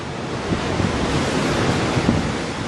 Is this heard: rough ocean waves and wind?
yes